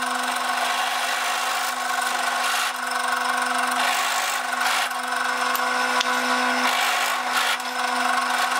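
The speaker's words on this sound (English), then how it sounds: "I actually have a 12mm concrete bit, and I'm going to use this instead to remount the holes." A 12mm concrete bit bores out holes in a wooden piece for a Pantorouter XL pantograph build, giving a steady, loud, continuous grinding whine with a constant tone that runs the whole time, no voices.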